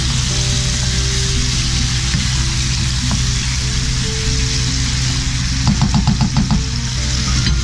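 Chicken and pork adobo simmering and sizzling in a pan, a steady loud fry with brief stirring scrapes near the end under a low constant hum.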